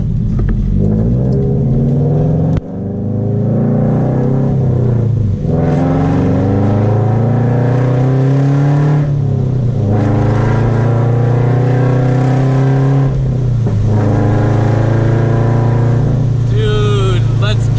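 A Scion FR-S fitted with a UEL header and exhaust revs hard and loud several times, each burst of rough, rumbling engine note climbing and then falling back toward idle.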